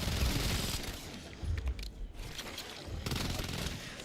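Submachine gun fire in Black Ops 7 Zombies comes as rapid, dense bursts of shots, loud and close, with a short lull in the middle before the firing picks up again.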